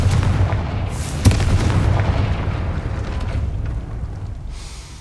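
A Confringo fire-spell blast in the Hogwarts Legacy video game, a loud booming burst with a sharp crack near the start, then a heavy rumble that gradually fades out, with no voices.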